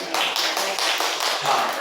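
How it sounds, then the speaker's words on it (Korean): A church congregation at a Sunday service claps together in a dense, even burst of applause, close and lively, lasting under two seconds with no talking. "특별히 여인들의 헌신에 다시 한번 박수를 보냅니다"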